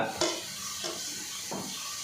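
Chopped garlic and ginger frying in a pan for a buttermilk curry, a steady sizzle broken by a few scraping stirs of a spoon, close and clear with no voices.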